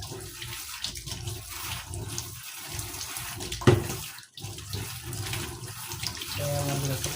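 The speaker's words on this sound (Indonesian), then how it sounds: "Airnya nih," Water runs steadily from a tap while small purple sweet potatoes are washed in a kitchen sink, a continuous close splashing stream with brief interruptions and splashes as the tubers are handled.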